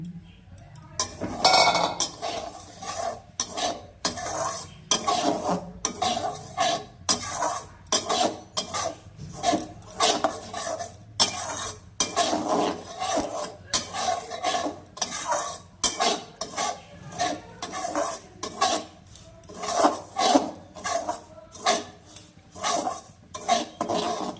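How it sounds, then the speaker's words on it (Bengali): Semolina being stirred and lightly roasted in a pan, a metal spoon scraping and clinking against the pan in quick irregular strokes, fairly close and continuous. "সুজিটাকে আমি হালকা ভেজে নেব।"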